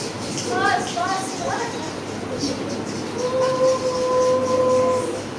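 A voice imitates a train picking up speed, with quickening chugging bursts followed by a sustained whistle-like tone, close and loud, in a classroom play activity.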